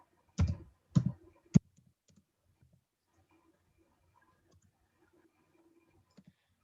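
A computer mouse gives a few close, sharp clicks in quick succession near the start, followed by near silence with only faint room noise.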